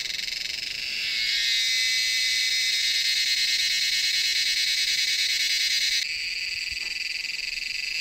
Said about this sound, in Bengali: এখানে জঙ্গলের মধ্যে এই ঝিঝি পোকার আওয়াজটা শুনুন।